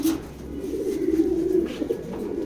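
A male pigeon coos steadily and close by at a pigeon loft, a low throaty burbling sustained across the moment, with no voices present.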